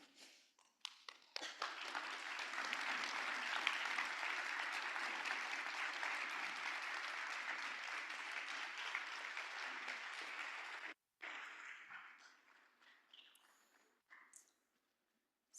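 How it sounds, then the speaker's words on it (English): A conference audience at a gene foundation's closing session applauds its board of directors with sustained, dense clapping that runs about ten seconds, then drops out and gives way to a few scattered claps before fading to quiet. "come and get the round of applause that they deserve"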